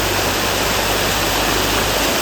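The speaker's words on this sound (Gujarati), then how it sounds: "એવી રીતે પાણીનો અવાજ આવતો હોય બધો" Water flows steadily near Tulsishyam in Gujarat, a dense broadband rush close to the listener, continuous from start to finish with no voices.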